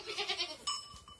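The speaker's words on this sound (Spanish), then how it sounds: "Estoy por llamar a las otras cabras." Goats answer a call with a few short bleats, followed by a bright metallic bell clanking close by, all within about a second.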